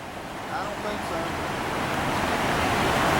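Swift river current on the Catawba River during a kayak trip, a steady broadband rush of moving water that swells slightly louder toward the end, with faint background voices.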